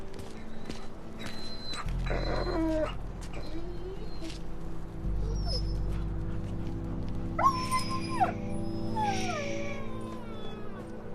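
An injured dog whimpers and whines in a few short, high, wavering cries, heard over a loud, low, steady droning background.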